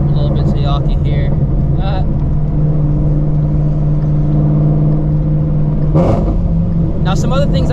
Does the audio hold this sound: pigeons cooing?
no